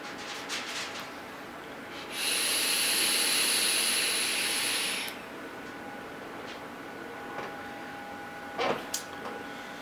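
A vaper draws on an Aspire Cleito tank, producing a steady, fairly loud airy hiss that lasts about three seconds before falling back to quiet room noise.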